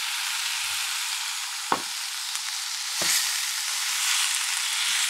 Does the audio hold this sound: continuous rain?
no